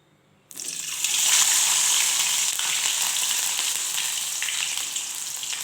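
Tofu dropped into preheated hot oil, frying for a sweet soy-braised dish, bursts into a loud, steady sizzle after a brief quiet moment and keeps crackling evenly throughout.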